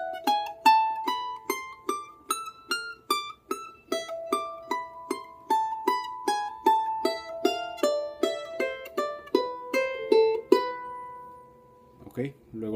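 Solo charango picks out a melody note by note, bright plucked strings in a steady rhythm with clear ringing decays, close and alone, ending with a brief strum.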